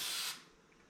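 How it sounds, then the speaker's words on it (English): A quick hiss of aerosol cooking spray onto a baking pan lasting about a third of a second, then cutting off to near silence. "Now we are going to spray the pan."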